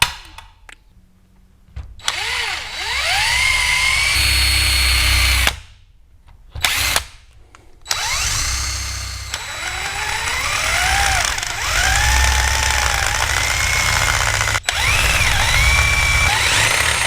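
A loud power drill whines through a hole in bursts, its pitch climbing and dropping as it bites, with short pauses between runs.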